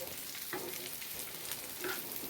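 Chicken sautéing in a pan, a soft steady sizzle with a couple of faint stirring scrapes, quiet and close, no voices.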